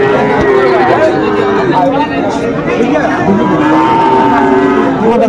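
Sahiwal cattle low repeatedly at a busy Chittagong livestock market, several drawn-out moos rising over a constant crowd hubbub, with people talking throughout.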